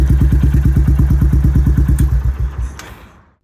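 A Royal Enfield Classic 350 single-cylinder motorcycle is ridden close by, its loud, even thumping exhaust beats pulsing rapidly and then fading as the bike pulls away, with no talk.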